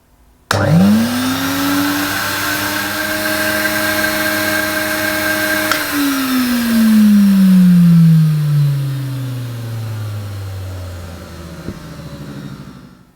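A vintage Hoover Constellation vacuum cleaner in Swedish Green and Smoked Pine switches on with a sudden loud whine, runs steadily and close, then winds down as its motor pitch slowly falls.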